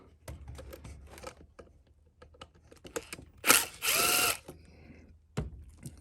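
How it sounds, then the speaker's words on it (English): A screw is backed out of a Honda GC190 small engine with a ratcheting hand tool, giving close clicks and scrapes, then a brief loud whirring burst of a powered driver and a final knock. "Let's go ahead and remove that screw."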